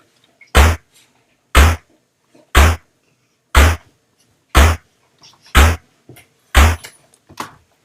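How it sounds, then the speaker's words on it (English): An 8-bit synthesized snare drum from the Magical 8bit Plug 2 plugin hits seven times at an even one-per-second pace, each a short, loud, noisy burst separated by near silence. "That's about what a snare should sound like."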